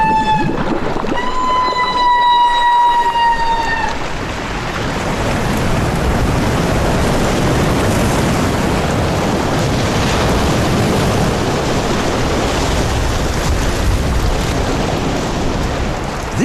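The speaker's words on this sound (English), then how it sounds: "This sound you hear, these humpback whales only ever make this sound when they're hunting." Humpback whales bubble net feeding off Antarctica give a series of rising, tonal, trumpet-like calls over a few seconds, followed by a long stretch of loud, steady wind and wash at sea.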